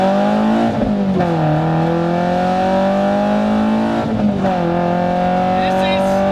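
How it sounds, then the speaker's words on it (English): Close and loud, a Toyota MR2 Spyder economy engine breathes through a custom side exhaust, holding a steady droning note broken by two quick rev blips that rise and settle back. "This is such a good sounding economy motor."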